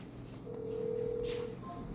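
A telephone ringback tone sounds as one steady electronic ring lasting about a second, heard while a call is placed from indoors during a cleaning day, with faint room noise around it.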